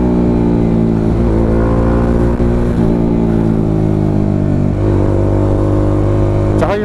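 A Bajaj Dominar 400 UG2 motorcycle fitted with a custom 61mm Toto exhaust pipe runs loud and close, its deep, steady exhaust drone rising in a few short rev blips throughout.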